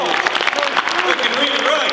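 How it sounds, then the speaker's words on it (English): An audience at a high school football banquet claps steadily in a dense, continuous burst of applause, close and loud, with some crowd murmur mixed in. "Let's give them a round of applause."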